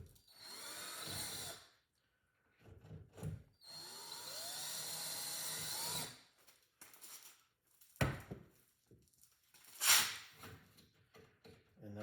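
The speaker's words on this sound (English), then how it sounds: "So we have to drill down through there a little bit further." A power drill with a 3/16 drill bit bores through a mounting point during a Sea-Doo Spark accessory kit installation, whining in several bursts of a second or two, close and loud, with short clunks between.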